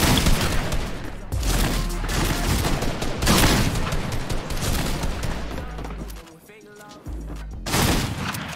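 Dense, nearly nonstop gunfire from a realistic 2v2 shooting video game, rapid rattling bursts and booms with one brief lull before shooting resumes, loud and close.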